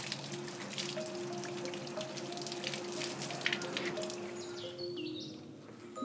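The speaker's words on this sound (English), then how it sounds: "by pouring water into it and measuring how much water it takes to fill the mould up to the point where I want the glass to get to" Water pours steadily into a glass-casting mould for kiln-cast sculpture, a continuous watery rush with faint splashes and trickling that holds at moderate loudness throughout, with no voices.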